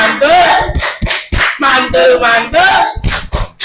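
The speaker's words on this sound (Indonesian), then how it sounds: "Kita beri tepuk mantul." A classroom of students gives a rhythmic patterned cheer-clap for group D after their food-chain rice-field ecosystem presentation, sharp claps in bursts with voices chanting along.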